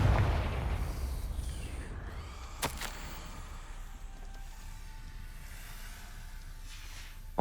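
A Confringo fire spell from Hogwarts Legacy bursts with a heavy booming blast at the start that rumbles and fades, followed by a sharp crack and a low lingering roar of game ambience.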